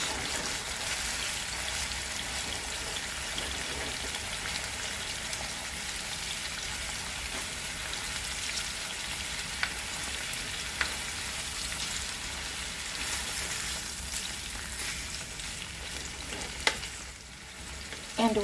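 Thinly cut chicken frying in a skillet, a loud, steady, dense sizzle that continues evenly for the whole stretch, with only a few small clicks and no voices.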